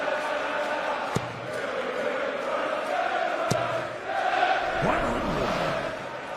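Darts crowd at the PDC World Championship round three match between Gerwyn Price and Brendan Dolan, a loud, sustained roar of voices and cheering with a couple of sharp knocks, a rising shout near the end.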